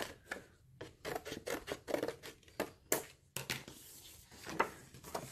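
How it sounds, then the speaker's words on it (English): Scissors snip a paper card piece in a rapid series of short, crisp cuts, heard up close and quiet with slight rustling between strokes. "I will take my time cutting that piece off because you want it nice and straight"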